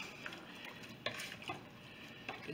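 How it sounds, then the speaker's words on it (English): Chopped beef bourguignon ingredients being stirred in a pressure cooker pot, faint scraping and soft sizzle with a few brief clinks of the spoon against the pot. "Let's stir that all together."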